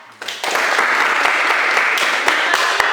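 Students in an electronics classroom break into a short burst of loud clapping that starts abruptly and stays dense, with a few sharp, distinct claps standing out near the end.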